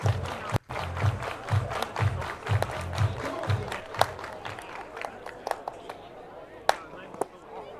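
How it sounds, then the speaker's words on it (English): A baseball stadium crowd claps in a steady, rhythmic beat, moderately distant and spread out, under an announcer talking over a public address system. "Everybody clap your hands."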